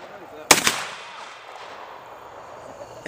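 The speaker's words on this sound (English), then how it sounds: "You're supposed to warn people before you shoot that damn thing." A single sharp gunshot from an AR-15 rifle chambered in .458 SOCOM cracks loudly up close, followed by a brief echo and quiet outdoor ambience.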